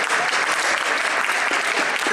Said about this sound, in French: Vous pouvez les applaudir encore une fois,